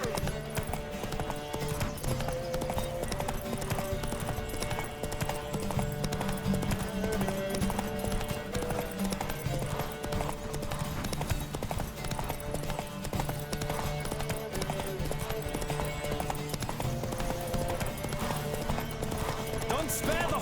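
A horse gallops hard in a race in The Witcher 3, its rapid clip-clop hoofbeats steady and continuous under game music and other noise for the whole stretch.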